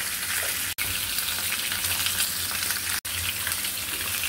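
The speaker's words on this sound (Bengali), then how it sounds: "রুই মাছ দিয়ে আলু সিম দিয়ে রান্না করছি।" Rui fish cooking with potatoes and flat beans in a pan gives a steady, soft sizzle and bubbling hiss that runs throughout, briefly cut by two short gaps.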